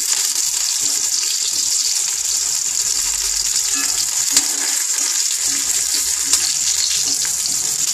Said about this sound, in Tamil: இந்த அளவுக்கு நல்லா ப்ரௌனாக வதக்கிக்கணும்